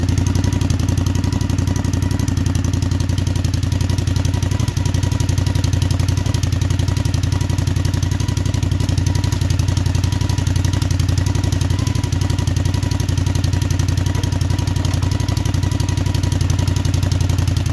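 A reverse trike engine with an exhaust baffle installed idles steadily and close by, a continuous low rumble with faint clatter that holds unchanged throughout without any talk.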